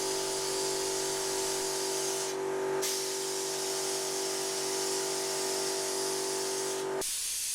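Spray gun laying a light dust coat of 2K primer over a car's bonnet and wings during a Daihatsu Charade restoration; a steady, close, broadband hiss runs almost the whole time with two short pauses where the trigger releases.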